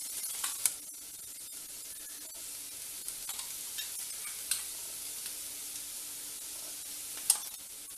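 Baby potatoes fry and roast in a pan with a faint, steady sizzle, broken by a few soft clicks and taps, heard from nearby and fairly quiet.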